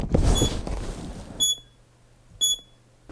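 Two short electronic timer beep bursts, about a second apart, sound from inside a camera bag after a stretch of muffled rustling, high-pitched and fairly clear against a quiet background.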